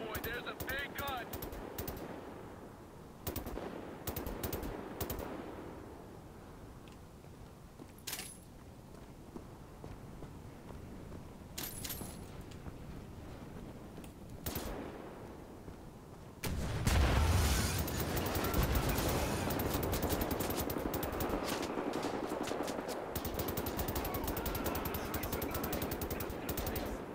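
Heavy automatic gunfire from a big mounted gun at a fortified Nazi checkpoint in the shooter game Wolfenstein, with scattered shots early, then a sustained loud burst of rapid fire dominating the second half.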